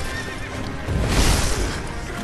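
A horse in the video game Sekiro: Shadows Die Twice neighs loudly, a rising then falling whinny with hoof clip-clops underneath, close and clear.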